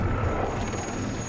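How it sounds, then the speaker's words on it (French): Helicopters fly in carrying large fire extinguishers from a desert base to fight a fire, giving a steady, loud broadband engine and rotor roar that holds through the whole stretch with no voices. "des hélicoptères acheminent de gros extincteurs depuis la base"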